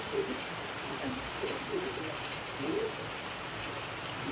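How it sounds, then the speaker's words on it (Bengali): Heavy morning rain pours down steadily, a dense, even patter that fills the whole clip, with a few faint bird calls in the background and no talking. "আবার বৃষ্টি হয়ে গেল শুরু"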